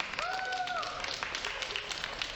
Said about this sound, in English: Let's give him a round of applause, guys.